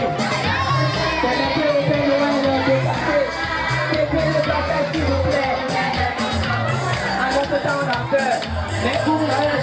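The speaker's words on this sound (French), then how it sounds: "le bruit de la foule du cortège conduisant l'homme couvert du rouge et blanc allume le public qui l'attendait impatiemment" A crowd cheers and children shout loudly and continuously at a school nativity celebration as Father Christmas arrives in a procession, a dense, sustained roar of young voices with no pause.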